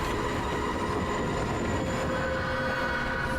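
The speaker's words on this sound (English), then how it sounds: "Is that a train?" A train rumbles steadily with a continuous rail roar and faint wheel tones throughout a scene from a Ms. Marvel episode, with no talk over it.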